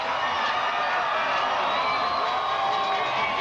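A stadium crowd at the Canadian Bowl junior football final, Regina Rams against Okanagan Sun, keeps up a loud, continuous roar of cheering and whoops, heard from within the stands without pause.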